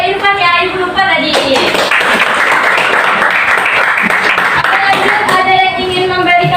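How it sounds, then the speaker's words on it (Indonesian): Students clapping for classmates in a classroom, a warm burst of applause lasting several seconds that starts after a teacher speaks and tapers off as her voice returns. "Oke, beri dulu aplaus kepada temannya"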